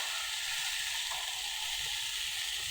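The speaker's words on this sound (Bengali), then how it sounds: "আলুটা কিছুক্ষণ কষিয়ে নিই।" Potatoes sauté in a pan for a vegetarian dish, giving a steady, close sizzle with faint stirring scrapes and no talking.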